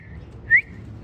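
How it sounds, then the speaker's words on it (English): A person gives one short, rising whistle to rouse sleeping pig-like animals at an animal enclosure. It sits clearly above a low, steady background rumble, with a faint thin tone just before it. "See, I whistled and they woke up."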